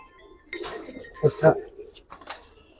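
Giribaz pigeons coo in a loft in soft, low bursts, a few close calls rising over a person talking and faint clinks in the background.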